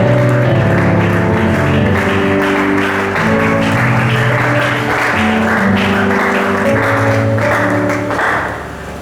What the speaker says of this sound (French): Sous vos applaudissements, j'invite l'homme de Dieu, le révérend prophète Timothée Lissassi Réma